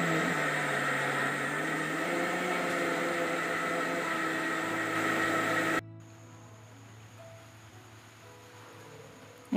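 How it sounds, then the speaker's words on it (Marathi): A kitchen mixer grinder whirs loudly and steadily while grinding rice and lentils with curd into dhokla batter, then cuts off abruptly partway, leaving a quiet room hum. "त्यानंतर आपल्याला ते मिक्सरमधून बारीक करून घ्यायचं आहे"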